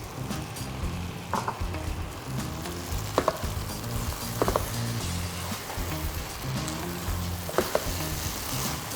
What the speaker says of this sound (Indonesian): Aduk lagi sama sebagian bawang goreng.